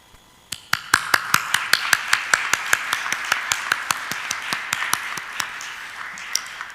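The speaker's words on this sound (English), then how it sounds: "And I think we need to applaud their work." Applause from a seminar audience: many distinct hand claps in a steady, fairly sparse rhythm, starting suddenly and continuing evenly at moderate volume, close and clear with no talk over it.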